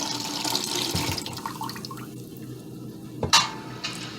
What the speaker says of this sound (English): you want to go ahead and add in your turkey leg broth.